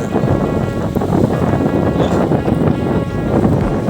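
Strong wind roaring and buffeting against the microphone, a loud, continuous rumbling gust noise with no speech.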